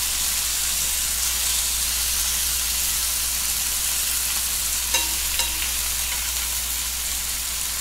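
Steak searing in a smoking pan, a loud, constant close-up hiss and sizzle with a couple of brief metallic taps near the end, no one speaking.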